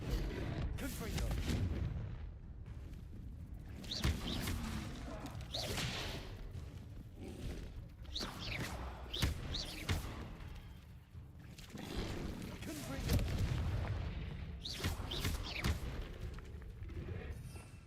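Confringo blast spells explode repeatedly in the video game Hogwarts Legacy, with loud, dense bursts and whooshing impacts layered over continuous game noise for the whole stretch.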